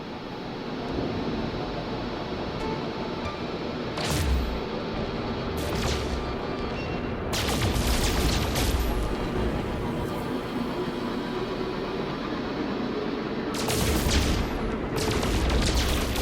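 Bursts of weapon fire from a No Man's Sky player shooting at random landmarks while flying, several separate volleys over a steady engine-like drone, fairly loud and continuous with no talking.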